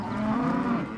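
A single cow moos for about a second on a Montana ranch cattle drive, a close, steady low bellow heard alone with no talk.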